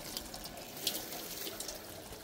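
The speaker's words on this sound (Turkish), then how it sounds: "kalan etlerimizin suyunu da bu şekilde süzüyoruz" Broth from cooked meat being strained, liquid pouring and trickling in a steady, close wash with one brief splash near the middle and no voices, set in a village kitchen preparing traditional meat keşkek.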